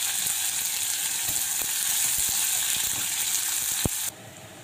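Onions sizzle and fry in a pan for a long-bean stir-fry, a steady close crackling hiss with a few light clicks before it drops suddenly near the end.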